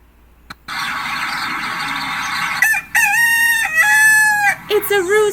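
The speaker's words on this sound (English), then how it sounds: "It's a rooster!" A rooster crows loudly and close, several drawn-out harmonic calls in sequence after a short burst of background noise, with no talking over it.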